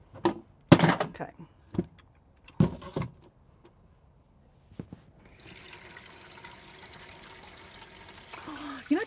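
Tap water runs steadily into a pot in a campervan kitchen, following a few clattering knocks and bumps of handling, with a constant rushing flow that lasts to the end.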